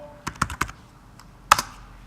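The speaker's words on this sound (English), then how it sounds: "the first thing you gotta do is go here and type" Keys on a computer keyboard click in a short cluster of four quick presses, then a pause, then two more sharp taps, close and clear, with no voices.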